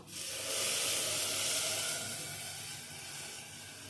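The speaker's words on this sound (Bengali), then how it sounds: "এই জলটা ঢেলে দেব" Water poured into a pot of pulao rice with raisins makes a rushing, hissing splash that swells quickly, then tapers off over a few seconds, close by and alone.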